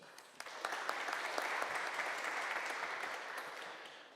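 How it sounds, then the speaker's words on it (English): Faint, sustained applause from a lecture audience greeting dignitaries at a university address in Krakow, scattered distinct claps building into a steady patter for several seconds and then easing off. "Please applause."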